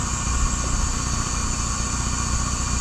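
A wood lathe turns a sapele blank at roughly 500 to 900 RPM, giving a steady, close motor hum with constant drone and faint vibration throughout, with no voices.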